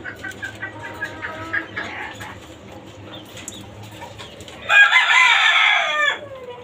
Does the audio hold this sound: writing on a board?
no